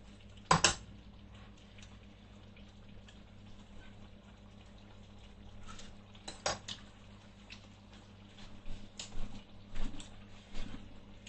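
Kitchen cooking at home: a utensil scraping and knocking against a pot, with one sharp clank near the start and quieter intermittent stirring clinks later, close and fairly faint.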